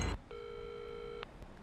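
Unanswered phone call: a single steady electronic ring or busy tone of about one second, clean and fairly faint, after a short burst of noise at the start.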